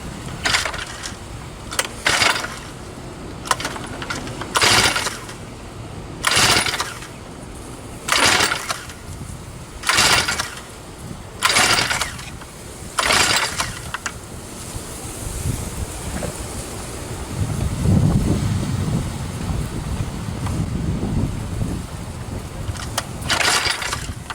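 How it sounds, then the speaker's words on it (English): An engine turned over by hand, about ten rough mechanical bursts at a steady pace, followed by a lower continuous rumble. "I want to try to turn over the engine a little bit by hand to help lubricate everything"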